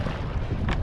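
Wind rushing past a Galaxy Kayaks Wildcat kayak on a first outing on the water, a steady, close low rumble of buffeting with a slight gust near the end.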